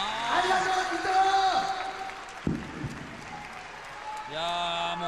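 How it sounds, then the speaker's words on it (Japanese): Crowd applause for wrestler Ryuji Yamakawa after a bout, a patter of clapping under someone talking, with a sharp thud midway and the voice returning at the end. "山川に拍手ですよこれ本当に。"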